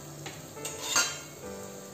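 Spices being sautéed in a pan for soya chunk biryani, a faint steady sizzle with a couple of soft spoon scrapes, quiet and brief with no talking.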